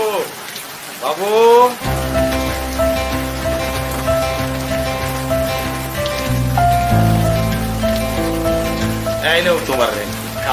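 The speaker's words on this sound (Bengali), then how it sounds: "কি যে বৃষ্টি শুরু হয়েছে না স্যার, এই বৃষ্টি কি আর ছাতায় মানে?" Heavy rain pours in a dense, constant hiss beneath loud background music, with a voice briefly heard over it.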